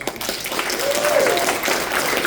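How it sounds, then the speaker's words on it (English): A convention panel audience gives a round of applause, with a short burst of crowd clapping at moderate loudness mixed with voices talking over it. "a round of applause"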